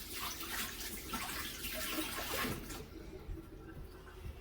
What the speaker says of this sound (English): And then you'll always have to wash your hands.